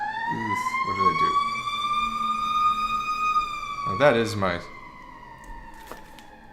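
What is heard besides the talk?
real emergency vehicle siren outside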